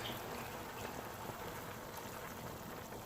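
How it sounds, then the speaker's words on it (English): Steady bubbling and rolling of water boiling down in a pot of oxtails, a continuous close simmering texture with no voices. "my water is boiling down really good"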